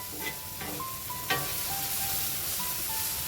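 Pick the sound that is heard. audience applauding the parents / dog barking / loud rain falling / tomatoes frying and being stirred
tomatoes frying and being stirred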